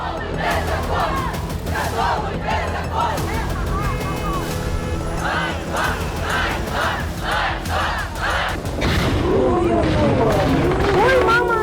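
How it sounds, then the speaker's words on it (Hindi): A large street crowd in Kyiv chants anti-government slogans in loud, rhythmic bursts of massed voices, steady throughout and swelling near the end. "राजधानी कीव समेत कई इलाकों में भीड़ सरकार विरोधी नारे लगा रही है"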